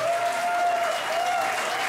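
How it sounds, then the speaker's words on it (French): Wedding guests at Mont Tremblant applaud Jacqueline and Linda, a steady, dense round of clapping filling the whole moment with a faint tone running beneath it. "je pense qu'on peut donner une très bonne main d'applaudissement à Jacqueline et Linda"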